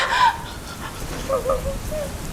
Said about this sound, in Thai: แล้วฝนก็ตกด้วย